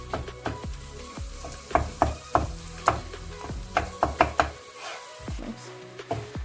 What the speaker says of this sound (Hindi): हम मैदे को भून रहे हैं बटर के अंदर।